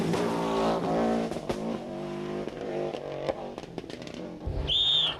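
Subaru Legacy rally car in the 1995 Cork 20 International Rally, engine loud and close, revving through gear changes with sharp pops and dips, ending in a high whistling whine.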